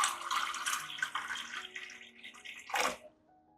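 Room-temperature water poured onto about two spoons of rice, a brief splashing pour that ends with a sharp final splash and then quiet, with faint background tones.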